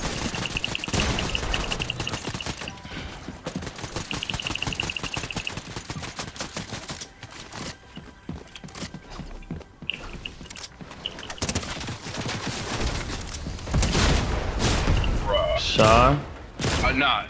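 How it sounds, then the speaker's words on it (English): Video game gunfire crackles in dense, rapid bursts and sustained fusillades throughout, loud and close, with mechanical clatter mixed in, one brief lull, and players shouting over it. "He's shooting at you!"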